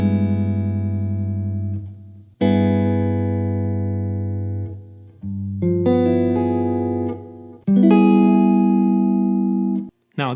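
Electric guitar strums a series of altered dominant chord voicings, four sustained chords ringing out one after another with short gaps between them, clean and close with no talking.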